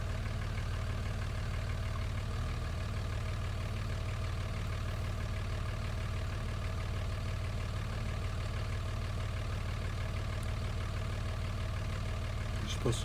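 A Dodge engine runs at a steady idle after starting, with a constant low rumble and no change in rhythm throughout, heard up close during work on a transmission that is not shifting.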